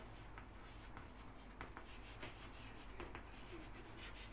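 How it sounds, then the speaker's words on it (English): A pen writes an application by hand on paper, with soft scratchy strokes in quick, uneven bursts that are close and faint against a steady background hiss, with no talking. "So now let's start writing"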